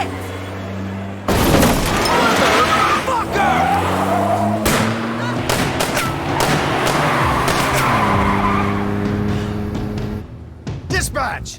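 A loud car crash with skidding tires in the As Dusk Falls video game during a pileup at the bottom of a grade, opening with a heavy impact, then scraping, screeching and scattered debris hits, close and dominant throughout.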